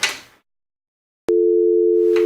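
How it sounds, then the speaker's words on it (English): A landline fax machine gives a loud, steady, unbroken dial tone that starts abruptly after a short pause and holds without any voice over it. "Can you hear that? That is dial tone."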